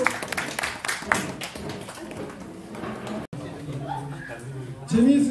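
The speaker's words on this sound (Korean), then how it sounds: "수고하셨어요. 박수." An audience of students applauds at a school-violence prevention and character-education lecture held at Gangha Middle School in Yangpyeong. A dense burst of clapping fills the first second or so, then thins out as a voice begins speaking.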